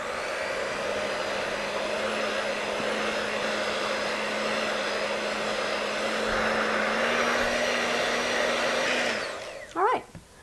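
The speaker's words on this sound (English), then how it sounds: "Now, I'm just using an electric hand mixer, and I have a whisk attachment, so I'm going to let it do all the work." An electric hand mixer fitted with a whisk attachment runs steadily through coconut cream pie filling, a continuous close whirring drone for about nine seconds before it cuts off, followed by a couple of brief knocks.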